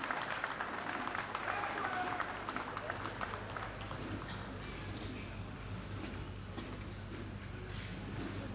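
Outdoor spectators applaud at the ceremonial opening of Parliament after the Governor's arrival, a faint, scattered clapping spread across the open air, with a commentator's voice over it.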